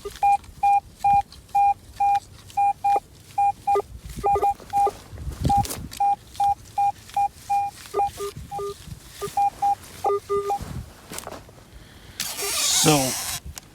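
A metal detector at an old homestead gives a clear coin-type signal: a run of short, evenly spaced beeps repeats closely, with a few scuffing sounds and a brief burst of noise near the end.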